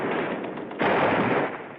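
Machine gun fire in the WWII Battle of Tarawa, from guns set up on wrecked amphibious vehicles: dense, rattling bursts, loud and continuous, with a brief dip before a fresh burst swells.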